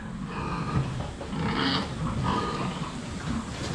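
Pigs on a farm in Mindoro grunt and squeal in a rough, continuous chorus, fairly close, with snorting bursts rising and falling and no talking.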